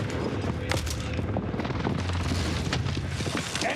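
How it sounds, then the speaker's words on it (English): Video game airstrike barrage, dense overlapping booms and sharp gunfire-like cracks rolling continuously and loud throughout, with a few distant impacts punctuating the rumble and no clear talk. "Enemy precision airstrike."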